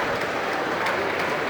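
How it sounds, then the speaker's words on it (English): A crowd at a county fair swine show claps for exhibitors, a brief, dense, even burst of applause heard loud and steady throughout. "Let's give those exhibitors a nice round of applause"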